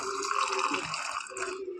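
Water poured into a blender jar holding curd to make buttermilk gives a steady, close splashing pour that runs for under two seconds with no break.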